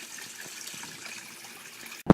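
A creek behind a house flows with a soft, steady hiss of running water at a distance, ending in a sudden loud knock.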